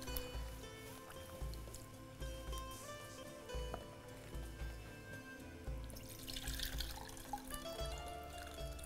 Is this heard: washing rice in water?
yes